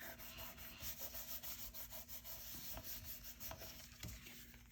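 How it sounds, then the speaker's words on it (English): A card-making panel is rubbed firmly by hand to press it onto a card, giving a steady, close, continuous scratchy rubbing with quick back-and-forth strokes throughout. "give that a good rub so it stays really stuck"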